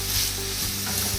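Mixed vegetables with salt sauté in a hot pot for vegetable biryani, giving a close, continuous sizzle with brief stirring scrapes and no voices.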